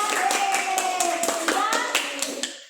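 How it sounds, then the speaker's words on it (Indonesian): A small group claps for children after they finish a game at an online Sunday school session, with steady rhythmic hand claps and a voice sounding faintly underneath, close and moderately loud throughout. "Karena itu kita berikan tepuk tangan bagi mereka."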